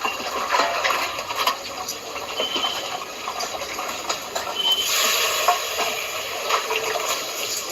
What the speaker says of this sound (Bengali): তাই পেঁয়াজটা ভাজছি।